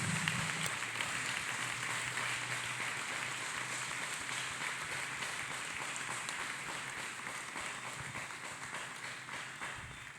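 A church congregation applauding together for Jesus during a sermon, a dense, steady wash of many hands clapping that carries on for about ten seconds with no voices.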